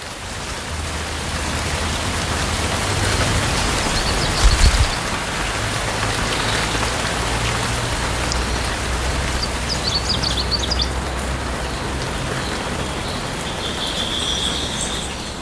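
Steady heavy rain pours down in a Madagascar forest, a dense continuous hiss of drops on foliage, with faint bird calls and a low rumble underneath.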